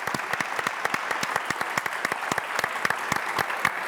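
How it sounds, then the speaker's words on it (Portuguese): Audience applause for an honoree on a televised interview programme, steady clapping with distinct individual hand claps standing out in an even, lively rhythm, fairly close and without talk. "Olha, palmas para você, querida."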